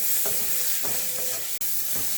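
Spices frying in a pan while being stirred, a continuous hissing sizzle broken by a few spatula scrapes and one sharp clack, close and fairly loud.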